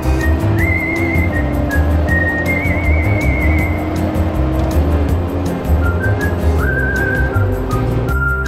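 Steady, loud engine and road rumble from riding inside a truck on a narrow, single-lane mountain road in Himachal's Dodra Kwar, with occasional high whistling tones rising over the constant drone and no talking.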